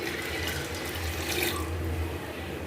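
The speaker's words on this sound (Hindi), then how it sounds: "अब इसमें हम 2 जग पानी का ऐड करेंगे।" Water pours steadily into a cooking pot of soaked lentils seasoned with salt, turmeric and ground coriander for chicken haleem, a continuous close rushing splash with no voices.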